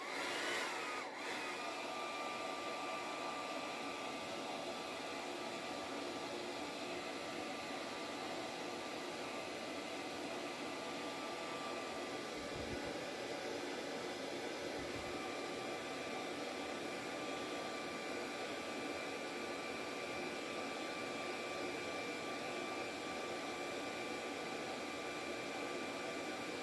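Hair dryer drying a watercolour painting, a loud continuous blowing roar held steady for nearly half a minute with a few faint low knocks partway through.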